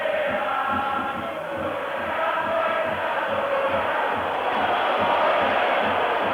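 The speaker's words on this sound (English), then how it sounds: "the Italian crowd don't like it" A large Italian stadium crowd at a European Cup football match against Dundee United jeers and whistles in a continuous loud roar of voices that swells slightly and never drops, with no single voice standing out.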